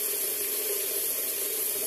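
Tap water runs steadily from a bathroom faucet as someone waits for it to turn hot, a constant even hiss and splash with no voices over it.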